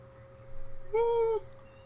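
Single cat meow indoors, a clear drawn-out call rising near the middle of the moment, moderately close over a quiet room hum.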